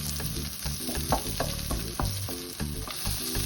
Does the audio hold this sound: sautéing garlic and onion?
yes